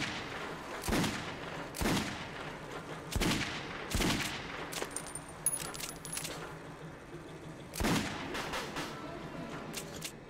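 Gunfire from a weapon in Metro 2033 Redux: several sharp, loud shots spaced a second or two apart, each with a short echoing tail, plus a few faint metallic clinks in between.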